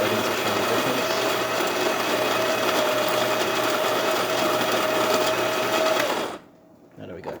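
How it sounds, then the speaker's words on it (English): A Baratza Virtuoso coffee grinder set to grind size 10 runs with a loud, even, high-pitched whirring grind for about six seconds, then stops, leaving near silence with faint small noises. "We're gonna just crank it to 10. I'm gonna grind a little bit"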